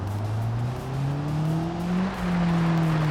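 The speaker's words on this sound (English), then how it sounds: "I know this is a base model 4-cylinder on the sounds of it" Worn-out base-model 2.2-liter four-cylinder car engine with about 295,000 miles in BeamNG, droning and rising steadily in pitch as it accelerates, loud and continuous with no speech.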